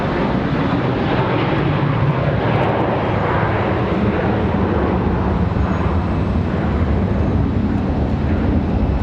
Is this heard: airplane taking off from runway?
yes